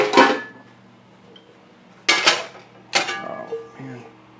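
A large metal pan is pulled out and set down in a kitchen, giving three separate clattering bangs of cookware with quiet pauses between them, close by.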